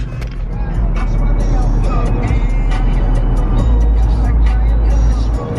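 Nissan GTR R35 cruising on the motorway, heard from inside as a loud, steady low engine drone and road roar with tyre noise, plus faint ticking and rattles throughout.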